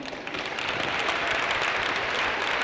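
A ceremony audience of around 400 people claps for a 17-year-old speaker, a dense, steady round of applause that fills the room.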